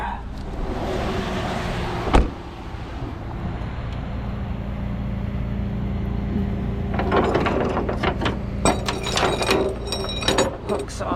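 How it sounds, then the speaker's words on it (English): A tow truck's bed slides out from under a crashed car at a collision scene, with a steady mechanical drone and then a rising run of metallic clanks and rattles. "Pull the bed out from underneath it."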